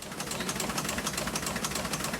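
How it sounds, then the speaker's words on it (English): The historic printing press in the Vineyard Gazette offices in Edgartown runs as it prints the newspaper, giving a steady, fast, rhythmic mechanical clatter at moderate volume with no voices. "That's the sound of the historic press in the Vineyard Gazette offices in Edgartown printing the paper"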